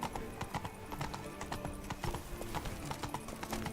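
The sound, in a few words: horse Roach galloping in video game The Witcher 3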